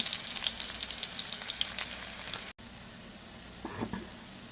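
Mixed leafy greens sizzle steadily in a hot pan as they brown, a dense crackling fry that briefly cuts out, then resumes with a few soft stirring scrapes.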